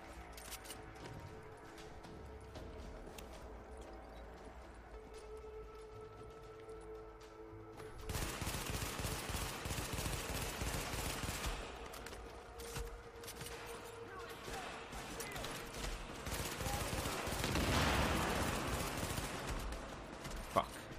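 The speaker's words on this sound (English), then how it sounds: "Taking heaps of shots right now." Gunfire in the video game The Division, with sustained bursts of automatic fire and scattered single shots that grow denser and louder partway through, mixed with game noise.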